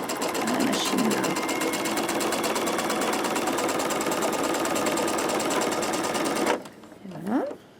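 Sewing machine stitching quilt pieces, a loud, steady, fast mechanical whirr running continuously for several seconds before stopping abruptly, followed by a brief soft voice.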